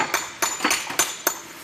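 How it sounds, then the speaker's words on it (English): Steel hammer striking stone to chip a hump off a rock for dry-stacked fireplace masonry, five sharp, ringing clinks spaced about a quarter second apart, close and clear. "so you take that hammer"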